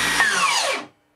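A Makita 40V cold cut metal saw runs freely with a bright whirring whine, then winds down with a falling pitch and cuts to silence within about a second.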